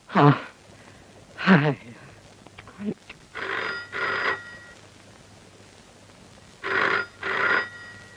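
An old-style telephone rings for a trunk call, with two clear bursts of bell ringing separated by a pause and following brief talk at the start.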